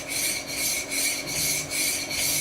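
Back of a Stanley 750 chisel being flattened on a sharpening stone, five even rasping strokes in a steady back-and-forth rhythm, close and loud with nothing else heard.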